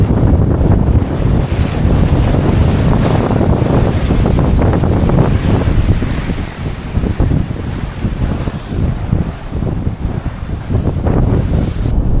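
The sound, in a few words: sea breeze wind at Beachport Jetty, South Australia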